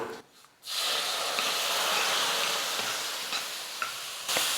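Semolina cooks in a pan for a sweet as milk is added little by little, giving a steady close sizzling hiss with faint stirring scrapes and a brief quieter dip near the start.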